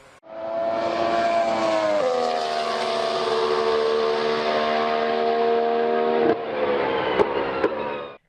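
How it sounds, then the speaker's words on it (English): A V8 Formula 1 car engine in the video game F1 2010 holds a loud, steady high-pitched scream, then dips in pitch and keeps droning for several seconds. "never heard a V8 F1 engine rev so high."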